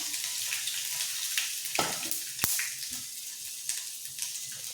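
Grated ginger sizzles and crackles steadily in hot oil in a pan nearby, a bright constant hiss with a few sharp pops and faint stirring clinks.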